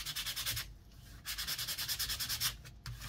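Sandpaper or a nail file rubs quickly back and forth across the paper of an altered book, making close, rhythmic scratchy strokes in short bursts with brief pauses between them.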